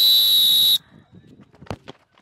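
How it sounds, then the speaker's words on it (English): Referee's whistle at an informal football kickabout in Ghana, one loud shrill blast lasting under a second, followed by quiet murmurs and a couple of sharp thumps nearby. "On my whistle."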